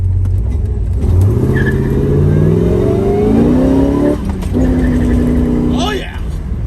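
A 1970 Chevrolet Chevelle SS396 with a big-block engine pulls away in first gear, its loud rumbling note climbing steadily in pitch, dropping briefly at a shift, then rising again with some tire chirp.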